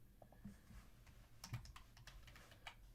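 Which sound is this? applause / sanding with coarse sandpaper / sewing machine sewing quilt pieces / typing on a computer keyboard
typing on a computer keyboard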